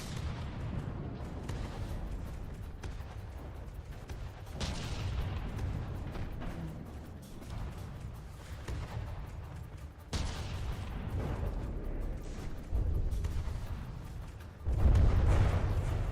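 Railgun fire in the From the Depths video game, heavy booming shots and rumbling impacts. Sharp onsets stand out every few seconds over a continuous low roar of battle, moderately loud, with no talking.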